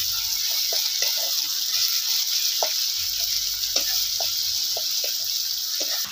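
Finely chopped tomatoes with onion and a little salt cook in a pan for soybean bhurji, giving a steady close sizzle with a few faint stirring clicks and no talk.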